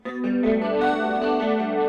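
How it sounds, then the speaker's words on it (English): A clean, out-of-phase single-coil electric guitar runs through a chorus pedal on a Boss ES-8 switching pedalboard. One strummed chord rings out and sustains with a shimmering, wavering chorus texture for about two seconds. No one speaks over it. "This board has a chorus on it."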